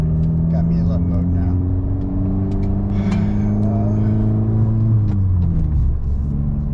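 A Dodge Dart with a turbo engine stuck in limp mode gives a steady, droning rumble with the pedal floored, its pitch climbing slowly under continuous talk.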